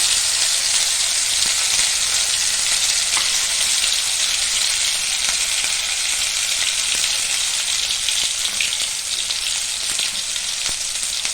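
Loud, continuous sizzling of ginger garlic paste frying in hot oil with cumin, a close, steady crackle with faint stirring and no talking.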